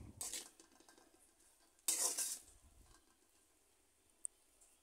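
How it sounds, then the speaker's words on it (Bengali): Spices being stirred into onions in a pan for a bitter gourd and egg stir-fry, with two short bursts of scraping and clinking followed by a quieter stretch and one sharp tap near the end. "এবার আমি আবার ভালো করে পেঁয়াজের সাথে মশলাগুলো মিশিয়ে নিচ্ছি।"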